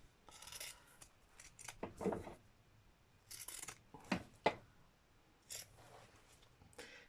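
Pinking shears snip through fabric while trimming the messy ends and corners of a teapot cosy, a few close crisp cutting bursts with short pauses, no talk.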